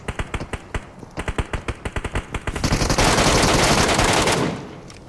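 Gunfire in the BGMI battle royale game: a rapid string of sharp automatic shots in close bursts, then a denser roar of sustained firing that cuts off near the end.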